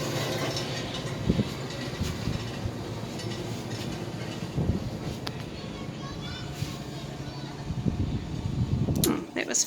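Steady rumble and clatter of a train interior while riding along, with a constant mechanical hum, occasional knocks, and a louder rattling swell near the end; no talking stands out.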